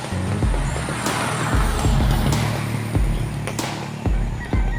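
A huge truck at a poultry farm rumbles close by with a deep, heavy engine drone and a series of regular low thuds and knocks, loud and steady throughout.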